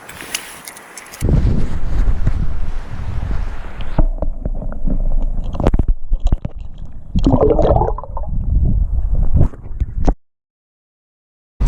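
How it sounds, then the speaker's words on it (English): Wind buffets the microphone beside a river while fly fishing for rainbow trout, loud gusty rumbling that starts abruptly, fluctuates, then cuts off near the end. "but at the same time it's getting windy"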